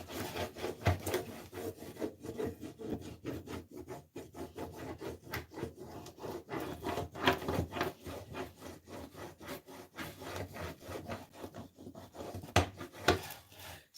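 A small plastic stick scrapes and rubs over a transfer on a piece of upcycled furniture, making a quiet, uneven burst of friction strokes that keeps going without pause.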